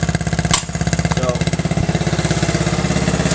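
Small single-cylinder engine of a 1968 Honda Mini Trail dirt bike running close up, a loud, rapid, even putter with a quick blip or two of revs, no talking.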